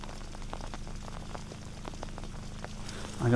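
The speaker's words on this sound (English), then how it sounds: "it's definitely raining right now" Rain pours steadily during a winter storm in Middle Tennessee, a dense patter of drops hitting surfaces nearby, and a brief louder burst comes at the very end.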